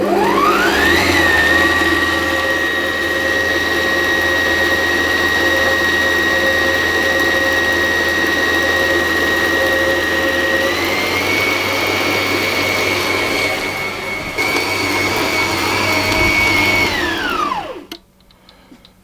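A stand mixer with a dough hook kneads sweet bun dough for cream buns in a steady, loud motor whine. The pitch shifts slightly partway through, then the motor winds down and stops at the end.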